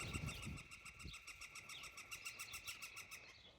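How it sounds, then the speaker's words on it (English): A woodpecker near a river walk gives a faint, rhythmic series of short, evenly spaced calls that carry on steadily through the clip over soft outdoor background noise. "She's a pretty woodpecker."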